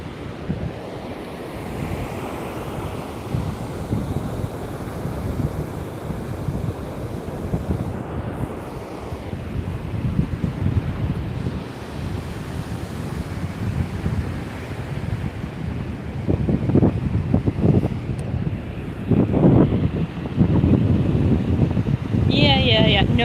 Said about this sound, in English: Let me know if the wind is too much for you guys.